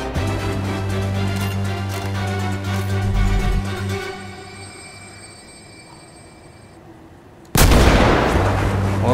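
Booming gunshots in the GTA 5 zombie survival game, fired during a fight at a military base over a droning engine-like hum that fades down before a loud burst returns near the end.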